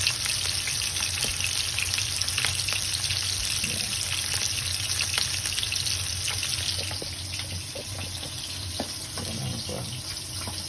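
Milkfish belly frying in a pan for an ampalaya dish: a dense, continuous crackling sizzle with scattered pops, easing slightly in loudness partway through.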